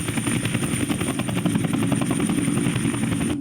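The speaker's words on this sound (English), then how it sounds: "have a helicopter come down" Helicopter rotor chopping steadily and loudly throughout, a continuous close rhythmic thrum with engine whine, produced as a simple effect in a basic computer program.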